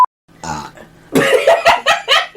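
A loud, close burp, followed by a run of rough, throaty bursts that break into laughter-like pulses, alone without talk.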